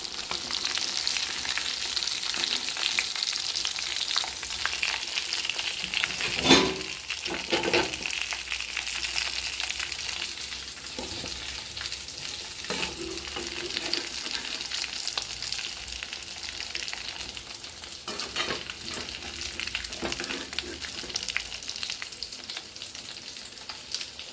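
Chicken 65 pieces deep frying in hot oil give a steady, dense sizzle and crackle throughout, with a few sharper pops and stirring clatters standing out now and then.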